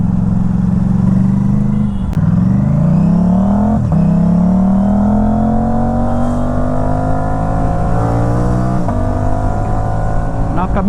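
Motorcycle fitted with a GPR Ghost full-system exhaust and DB killer, engine droning steadily at close range while riding, rising and falling in pitch through several gear changes and throttle blips.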